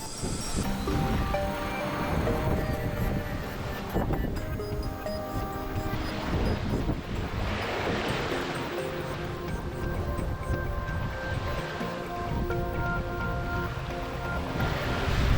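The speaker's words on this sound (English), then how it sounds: "we got out into the ocean, out of the harbor, and it is blowing like 20 knots" Strong ocean wind roars over breaking waves and surf while sailing out of a harbor in roughly 20-knot winds, a loud, continuous rush with wind buffeting the microphone throughout.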